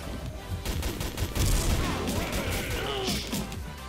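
Rapid gunfire in the shooting game XSHOT, a dense burst of shots with sharp cracking impacts. It is loud and close, with no one talking over it.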